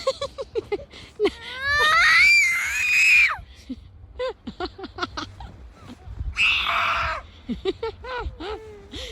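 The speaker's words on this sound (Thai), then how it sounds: "โอเคกรี๊ดไปเลย" A young child screams in long, shrill bursts between other children's chatter and whimpers, outdoors in deep snow where two siblings are hauling snow home.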